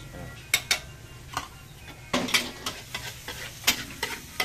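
Yellow egg noodles frying with seasoning in a large pan, stirred and tossed with repeated sharp scrapes and clatters over a steady sizzle, fairly close.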